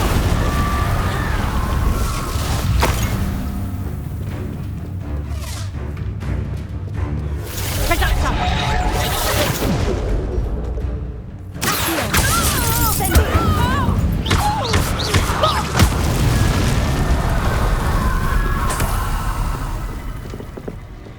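In Hogwarts Legacy, an Incendio fire spell bursts out with a crackling whoosh and shattering impacts amid dense, loud battle sounds, with a voice talking through the action.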